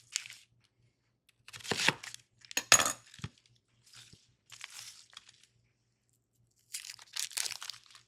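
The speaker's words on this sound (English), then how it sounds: "I'm gonna cut my onion up and get it ready to go." An onion is cut up with a knife, giving several crisp crunchy chops and scrapes in scattered clusters with quiet pauses between, close and fairly clear.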